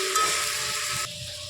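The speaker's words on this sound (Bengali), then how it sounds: "এবার আমরা একটু নাড়াচাড়া করে পেঁপে আলুটাও পেঁয়াজের সাথে ভেজে নেব।" Papaya and potato fry with onion in a little oil while being stirred, a brief close sizzle and scrape that drops slightly in loudness near the end.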